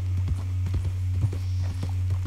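Horse hooves clip-clop in a steady trotting rhythm during riding in Red Dead Redemption 2, close and clear over a low constant hum.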